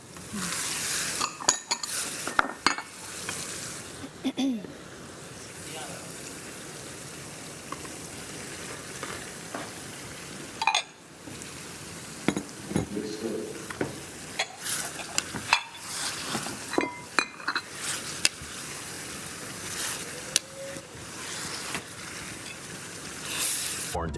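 Chicken frying in hot oil, a steady low sizzle with repeated scraping and clinking of a spoon against the pan as it is stirred, with brief voices in the background.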